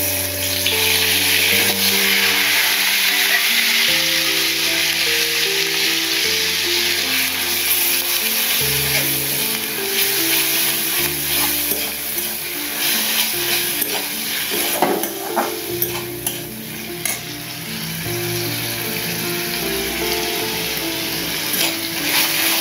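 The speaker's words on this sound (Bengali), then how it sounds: "পেঁয়াজ, আদা, রসুনটা ভেজে নেব।" Onion, ginger and garlic paste fries in hot oil, a loud steady sizzle that carries through the whole stretch, with stirring scrapes and occasional clinks of a utensil against the pan, all close up and without any talk.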